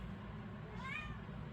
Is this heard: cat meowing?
yes